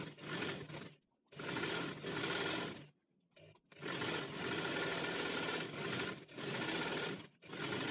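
Sewing machine stitching a straight seam on the wrong side of a folded neck scrunchie, running in several loud close bursts of motor whir separated by brief stops.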